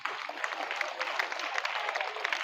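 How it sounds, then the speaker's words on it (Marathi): An audience at a school prize event claps steadily for a few seconds, a dense even patter of hands. "यांच्यासाठी जोरदार टाळ्या वाजवा सर्वजण"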